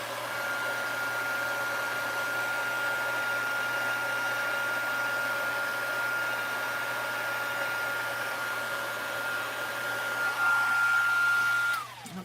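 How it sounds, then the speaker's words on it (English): A heat gun used for heat embossing on a craft project gives a steady, loud blowing whir with a constant whine that runs unbroken for about twelve seconds, then cuts off abruptly at the end. "Just want to make sure you get all of this heat embossed."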